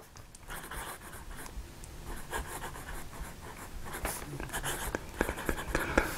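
Brass Delike pocket fountain pen with a smooth nib scratching and gliding across paper, a close, soft continuous rasp broken by short sharper strokes, steady and faint throughout.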